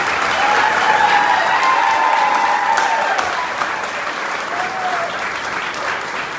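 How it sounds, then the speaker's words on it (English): A crowd at the Neshoba County Fair in Mississippi applauds during a governor's speech: loud, sustained, full clapping that eases slightly toward the end, with faint voices beneath. "Would y'all join me in a round of applause?"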